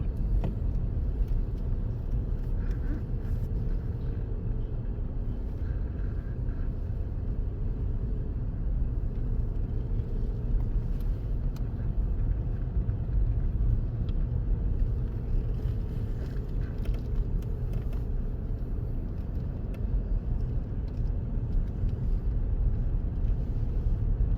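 Car rolling slowly along the roads of Elmwood Cemetery in Detroit, a steady low rumble of engine and tyres with some wind buffeting on the microphone, continuous throughout.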